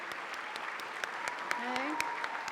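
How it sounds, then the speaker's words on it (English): Applause at a 2014 award ceremony: scattered claps from a modest audience spaced out over a couple of seconds, fairly quiet, with murmured voices and a brief tonal sound in the background. "So let's give them a quick round of applause."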